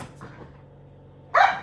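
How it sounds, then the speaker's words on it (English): A dog gives a single short bark, fairly close and sharp, after a quiet stretch of faint room noise. "sorry about the dogs"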